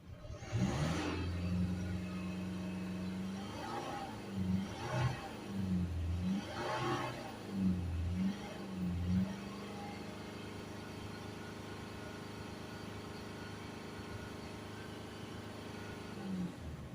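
A Mercedes C220 CDi 2.1 diesel engine is revved repeatedly while the car stands still, several rising and falling revs over about eight seconds, then it settles into a steady idle drone.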